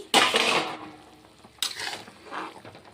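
Fried paneer tipped into a hot curry of potato and pointed gourd, loud sizzling bursts up close with stirring, one sharp hiss at the start and a second about halfway through.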